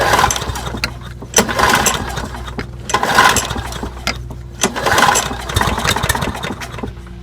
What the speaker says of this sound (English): Let's go ahead and give it a test.